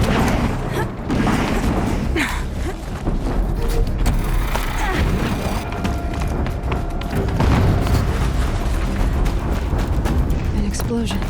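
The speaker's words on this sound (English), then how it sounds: "An explosion." Explosions rumble in the video game Horizon Zero Dawn, heavy booms and mechanical clatter running through a busy stretch of combat noise with voices talking over it.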